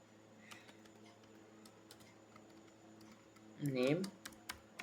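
Typing code on a computer keyboard, light scattered key clicks at low level under a brief burst of speech, close but faint.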